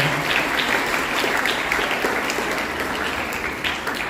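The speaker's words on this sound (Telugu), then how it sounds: "మనమందరం గట్టిగా చప్పట్లు కొట్టి వీరందరినీ కూడా అభినందించాలి" A church congregation applauds together during a Holy Mass at RCM Church in Proddatur, a steady, dense wash of many hands clapping that runs loud and unbroken from start to finish with no talking.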